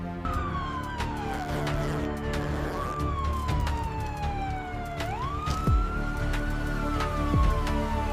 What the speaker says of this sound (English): the sound of the sirens